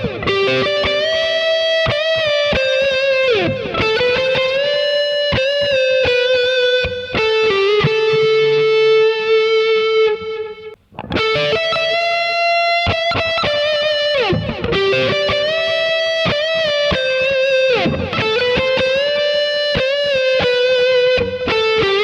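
Electric guitar through overdrive on the neck pickup, playing repeated chord phrases with sustained distorted notes, a brief gap mid-way before the pattern resumes, loud and solo.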